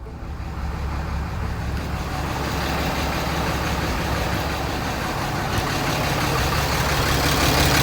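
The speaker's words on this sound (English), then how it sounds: "then fully start it, let it idle" A 2012 Ram 2500 with the 6.7L diesel engine idles steadily and loudly up close, a constant low rumble with no talking.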